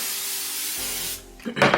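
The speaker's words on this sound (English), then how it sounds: "So I'm gonna go ahead and spray the top." Hairspray hisses onto the top of a burgundy wig in one long, close spray, followed by a short rustle of handling.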